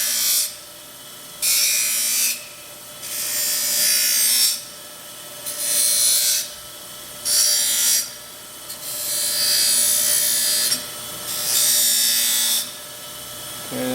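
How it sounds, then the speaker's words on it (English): A belt sander grinds the edges of metal brackets to deburr them, in repeated strokes of roughly a second each, a harsh rasping hiss that cuts in and out over a steady motor hum. "when you're belt sanding them."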